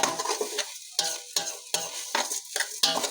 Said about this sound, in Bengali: সব কিছু আমি একটু ভেজে নিচ্ছি।